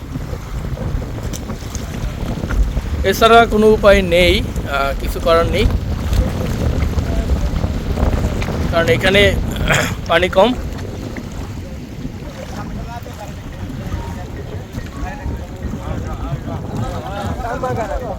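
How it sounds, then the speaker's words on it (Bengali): A speed boat runs across shallow water near Dhal Char in Bangladesh, its steady engine and wind rush filling the whole stretch beneath close conversation and a cough. "আমরা যাচ্ছি এই স্পিড বোট দিয়ে"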